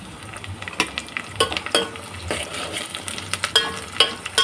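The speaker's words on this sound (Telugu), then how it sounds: "ఆనియన్స్ ఇలా ఎరుపు రంగులోకి అయితే మారుతున్నాయండి. నెక్స్ట్ కరివేపాకు వేసుకోండి." Curry leaves dropped into onions browning in a pan for chicken masala curry, a soft steady sizzle broken by repeated sharp spoon scrapes and taps against the pan, no talk.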